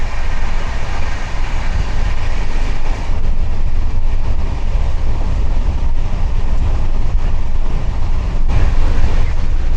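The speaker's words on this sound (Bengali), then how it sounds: "তো দেখো যে ট্রেন চলছে" Inside the Howrah Duronto Express while it runs, a loud, continuous rumble and roar of the moving train fills everything, with faint rattling and no speech.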